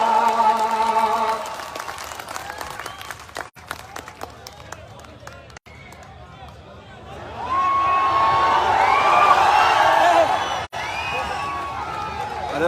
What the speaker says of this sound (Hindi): अभी ये तालियां बंद कर दे यार